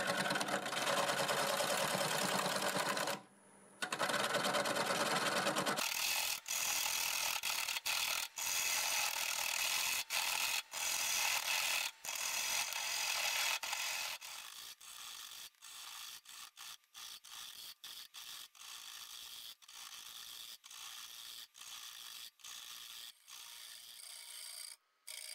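Cherry wood spins on a lathe under a half-inch gouge, giving a loud continuous scraping rasp that breaks into rapid rhythmic ticking and chattering cuts as the tool works the piece, close and alone.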